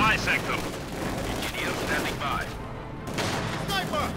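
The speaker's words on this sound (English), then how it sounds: "And there we go, snipers opening up." Gunfire from snipers and other troops in a Company of Heroes 2 battle crackles in a continuous, busy barrage of sharp shots and rattling bursts, with a voice talking over the combat.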